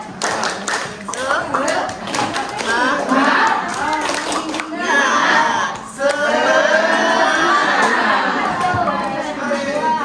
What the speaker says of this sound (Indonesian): Tepuk semangat saja ya.